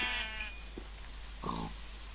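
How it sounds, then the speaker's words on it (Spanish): Sheep bleating in Minecraft, two short nasal bleats spaced about a second apart over a low background hum, fairly faint and with no voice over them. "Señora oveja, por favor."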